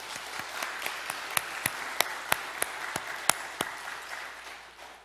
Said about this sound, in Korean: 우리 하나님께 영광과 감사의 박수